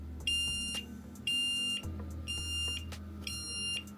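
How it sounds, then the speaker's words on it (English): A SofaBaton X2 remote's Find My Remote alert sounds as four repeated bursts of high, rapid electronic beeps at a steady rhythm, close and clear over a low background hum. "hit the Find My Remote, and it will start beeping"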